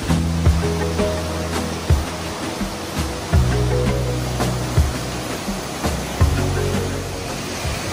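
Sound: flowing water of fountains and canals, Cupatitzio National Park

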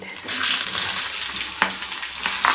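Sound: green chilies frying with crushed cumin in oil

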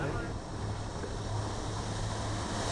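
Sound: jet ski speeding past on floodwater

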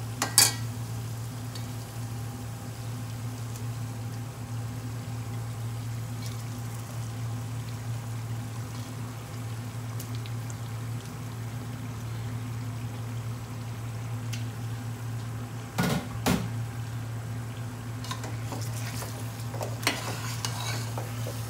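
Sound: lamb chops frying with oil and spices

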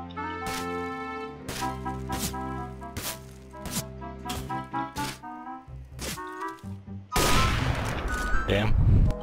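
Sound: gunfire in the video game Counter-Strike

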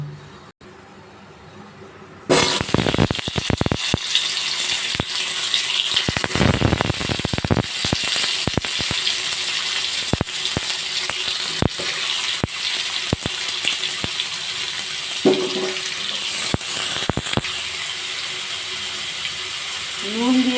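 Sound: Indian hog plums added to hot oil with panch phoron, frying

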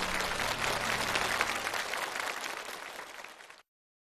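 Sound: audience applause on a TV show

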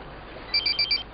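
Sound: mobile phone ringing

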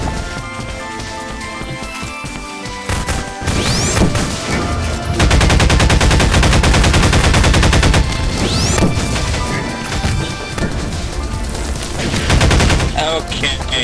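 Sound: AK rifle gunfire in a video game

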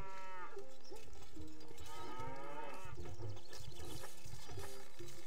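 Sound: cattle mooing in video game Stronghold

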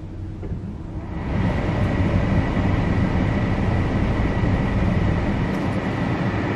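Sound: car engine started and running

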